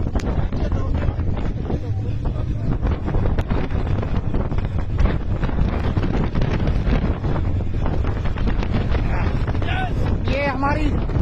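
Strong snowstorm wind gusting at Kongdori in Gulmarg, a loud continuous roar buffeting the microphone throughout, with urgent voices shouting nearby during a rescue of children and tourists.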